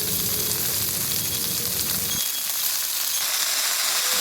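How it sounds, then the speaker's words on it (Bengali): Chopped greens fry in hot oil with onions and chili, giving a loud, continuous sizzle close by, with a rougher crackle that eases partway through and then carries on as a steady hiss. "ভাজা ভাজা হয়ে আসলে দিয়ে দেব কেটে রাখা শাকগুলো।"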